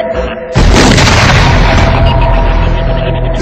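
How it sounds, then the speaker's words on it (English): A landmine erupts out of the ground and explodes: one sudden, very loud blast that fills the whole range, then a long, dense roar of rumble and debris that slowly fades. "the mine actually erupts out of the ground to about 2 metres and sends out metal in a 360-degree arc"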